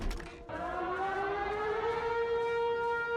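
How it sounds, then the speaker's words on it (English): A civil defense warning siren from a Project Zomboid darkness-event mod, rising in a long wailing tone that swells and holds steady, loud and alone after a brief muffled thud. "Sirens will go off in certain locations on the map to warn you before it happens."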